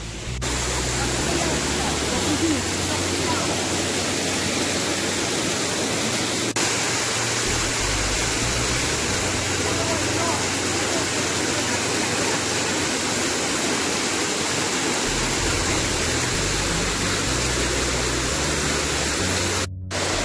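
A very large waterfall on the Patharia hill trail near Barlekha, Moulvibazar, roars continuously and loudly close by, a dense unbroken rush of falling water with no pauses.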